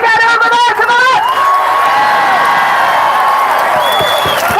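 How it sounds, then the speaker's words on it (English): Outdoor protest crowd in Trafalgar Square applauding and cheering loudly, with whoops and shouts ringing out over the clapping and a voice briefly audible near the start. "Let's give them a quick round of applause again over there to the left."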